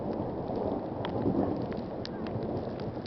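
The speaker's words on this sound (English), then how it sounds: "great big huge bolt of lightning just hit, and you can hear the thunder" Thunder rumbles through a winter blizzard with lightning, a steady low roar of wind and precipitation underneath and a few sharper crackles, loud and continuous with no voices.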